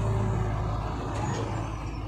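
Heavy truck rumbling past on a road in Indramayu, Indonesia, a steady low engine drone with a brief air-brake hiss, close and continuous throughout.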